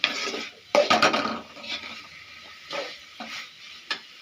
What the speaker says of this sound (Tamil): நல்லா வதக்க வதங்கட்டும் நல்லா வதக்கிக்கலாம்